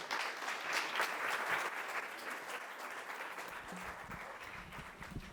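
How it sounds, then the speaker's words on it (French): Audience applause at an evening public event in Marseille, a soft, continuous patter of many hands heard from some distance, easing slightly toward the end with a voice faintly underneath. "Vous pouvez l'applaudir."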